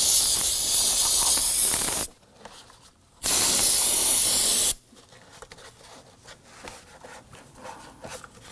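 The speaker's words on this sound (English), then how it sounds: "we're going to give it a quick spray with some solvent and clean up that connection area" Two loud bursts of aerosol solvent spray onto a connection area on a Volvo XC90 during serpentine belt replacement, each about a second or two long, separated by a short pause, followed by quieter handling noises.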